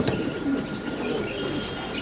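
Soft, low pigeon coos repeat over a busy background of chirps and rustling at a pigeon market, including Spanish breed pigeons.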